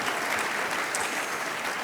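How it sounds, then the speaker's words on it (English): Brief burst of continuous clapping from a conference audience at a leadership panel session, dense and steady throughout with no voices on top. "Please give her a big round of applause."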